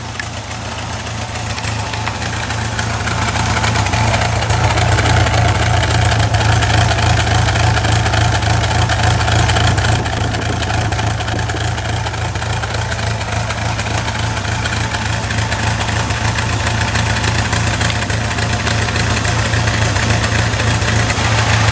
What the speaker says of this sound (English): See, it's got this little lumpy exhaust note, and that hasn't changed.